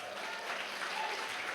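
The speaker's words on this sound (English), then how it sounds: "We'll applaud for everyone individually." An awards-ceremony audience claps for individual recipients at a university excellence awards event, a dense, steady wash of applause from many hands at even loudness throughout.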